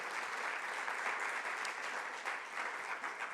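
A church congregation applauding during a sermon, a dense, even wash of many hands clapping together, steady and moderately distant for a few seconds with no speech over it.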